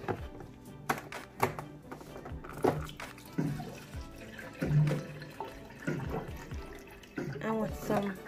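Water from a tap running into a glass in uneven gushes and drips, close and fairly quiet, broken by clinks, with voices talking over it.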